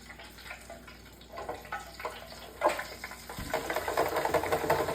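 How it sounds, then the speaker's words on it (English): Running tap water splashing over hands in a home kitchen, a steady wash that swells louder toward the end, with faint clatter behind it. "I have to wash my hands real quick."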